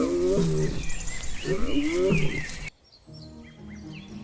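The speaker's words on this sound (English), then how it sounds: "Their roars echoed through the night." Lions near the Talek River roar at night in deep, moaning calls that rise and fall twice, loud and close, before the sound drops away to a quieter backdrop with faint bird chirps.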